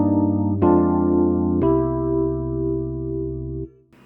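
A sustained keyboard-like progression of three inverted four-note chords in negative harmony, a IV-V-I with added sixths; each chord changes with a soft attack and rings steadily before cutting off, with no talking.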